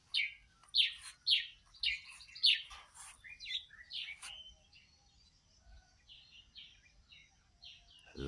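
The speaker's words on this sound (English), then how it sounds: "There we are with our beautiful ibis" Ibis call in a backyard with a run of harsh, repeated squawking calls, loud and close at first, then fading into softer, scattered calls over quiet background.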